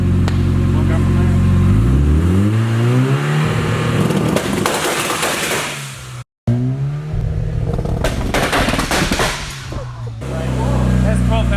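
A turbocharged Nissan 240SX running 12 psi of boost revs up twice, climbing from idle to a roaring, rasping high-rev peak with a sharp cut between pulls, then drops back to a low idle; voices speak nearby.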